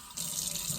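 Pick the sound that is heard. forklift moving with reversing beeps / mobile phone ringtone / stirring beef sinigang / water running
water running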